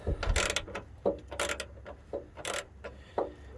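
Bolt being threaded into the fog light bracket of a Jeep JKU during a fog light replacement, a series of close, irregular metallic ratcheting clicks and scrapes in short bursts.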